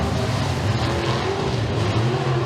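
Race cars at Eriez Speedway roar continuously during a green-flag heat, a steady, loud engine drone with layered motor tones and no gaps throughout.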